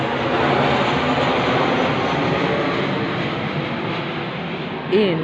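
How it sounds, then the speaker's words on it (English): An airplane flies overhead outdoors as a continuous, loud, broadband roar that holds steady, then eases slightly toward the end. "The plane went over as I said that"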